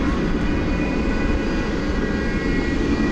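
A Boeing 757-200 from 1994 roars at DFW airport at night, its jet engines making a loud, steady, unbroken rumble with a high whine above it, close and constant throughout.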